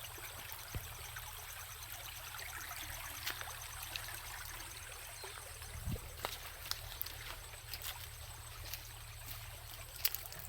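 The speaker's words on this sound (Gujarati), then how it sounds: "અહીંયા પાણી જાય છે આ કેનાલમાં" Water flows through a village canal as a faint, steady rushing trickle with a few small splashes, continuous throughout.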